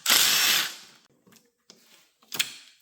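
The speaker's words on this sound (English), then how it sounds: "Now I'm going to be starting off the bolt that's holding down the clutch cable to the casing itself." A power tool whirs loudly for about half a second while backing out the clutch-cable bolt on a 2007–2008 Honda CBR 600, followed by a few brief, quieter bursts and one last sharp whir.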